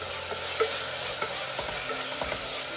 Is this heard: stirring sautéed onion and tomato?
yes